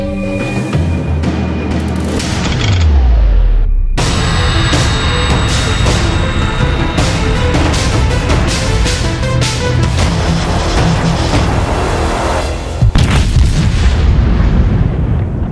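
Sixteen-inch naval guns of the battleship USS New Jersey firing, loud heavy booms with rolling low rumble, a sharp blast at the start and another near the end, sustained thunderous roar throughout with no voices.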